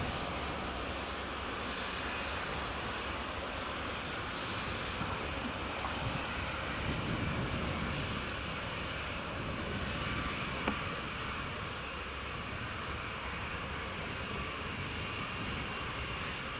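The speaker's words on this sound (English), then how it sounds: "next we have Ryanair's 737, just about to depart" Ryanair Boeing 737 departing Edinburgh Airport in the early morning, a distant, faint, continuous engine rumble and hiss that swells slightly midway, with no talk.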